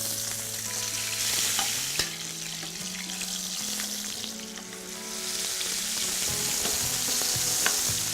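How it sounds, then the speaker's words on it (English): Pork steaks sear in oil in a hot pan with a steady, close sizzle and frying crackle, one sharp knock near two seconds and light clatters over it; no voices. "Now the pan is nice and hot, I'm going to start searing the steaks"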